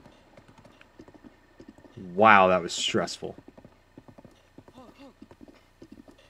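Hoofbeats of a galloping horse in Breath of the Wild, with a loud burst and a whinny-like cry at the centre, then someone talking with faint game sounds underneath.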